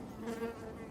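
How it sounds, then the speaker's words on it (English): Bees buzz in a close, steady drone for a moment, rising and falling slightly with no voices. "bees are coming. They can smell there is something weird here."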